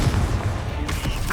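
Confringo, an explosive spell in Hogwarts Legacy, goes off as a short fiery burst over a low rumbling roar, with a sharper crack near the end of the brief blast.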